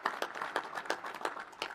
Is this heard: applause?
yes